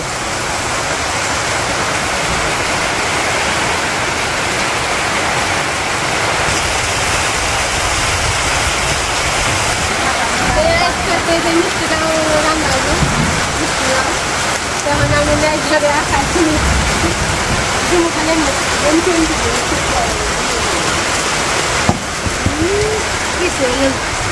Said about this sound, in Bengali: তো এই যে বৃষ্টি নেমে গেছে